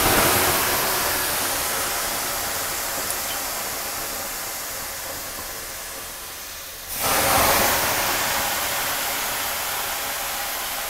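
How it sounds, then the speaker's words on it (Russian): Water ladled onto hot stones of a sauna stove sets off a loud, broad steam hiss that carries on steadily, dips briefly, then surges back again as another ladle of water goes onto the stones. "И закидываю 3 ковшика воды по 200 грамм."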